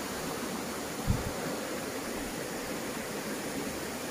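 Spring water flows steadily out of the ground at the site of a landslide, making a constant rushing hiss that lasts throughout with a brief low thump near the start. No one speaks.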